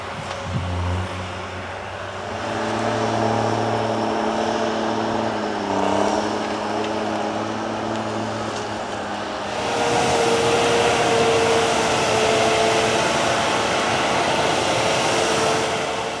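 An HSM 208 forestry tractor with oversized tires works in a dense Belgian forest, its engine droning steadily with tonal whine and shifting pitch, then rising to a louder, rougher roar partway through.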